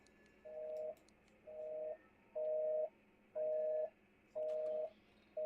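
Telephone tones after clicking a phone in the Warframe video game: a steady series of six evenly spaced beeps, each about half a second long, clear and alone over a faint background hum.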